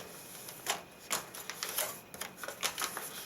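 A sheet of origami paper is folded along its center line and creased flat, giving a quick series of close, crisp rustles and sharp scrapes in irregular bursts against near silence.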